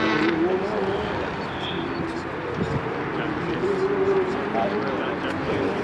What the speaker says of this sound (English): Waiting for the Sophia car to come back over the hill. Here it comes, down the hill.